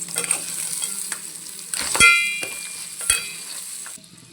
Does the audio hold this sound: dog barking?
no